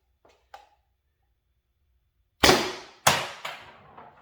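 Airsoft gun shots during a test of a Grimburg 5-inch barrel, with two faint clicks early on, then three sharp, loud cracks in quick succession, each trailing off briefly.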